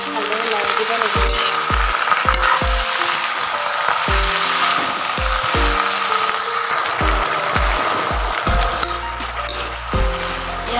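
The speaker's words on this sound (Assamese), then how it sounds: "আলুখিনি মই দি দিলোঁ এইখিনি ভালদৰে লৰাই দিব লাগিব" Potatoes and pui shak (Malabar spinach) sizzling loudly in a pan while being stirred, with a constant hiss broken by a series of sharp clinks and scrapes from the spatula against the pan, and no voices.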